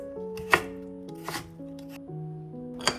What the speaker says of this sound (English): cut 60 grams or about 2 ounces of carrot into thin